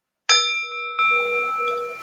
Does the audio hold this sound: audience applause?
no